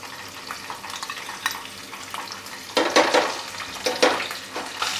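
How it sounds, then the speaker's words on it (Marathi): Cumin, curry leaves, green chili and ginger-garlic paste sizzle in hot oil for a tempering, a steady crackling hiss with louder bursts as each ingredient hits the pan, close and alone without talk. "आता आपल्याला जिरं घालायचं आहे, त्यानंतर कढीपत्ता, त्यानंतर हिरवी मिरची आणि आता आलं लसणाची पेस्ट घालूया"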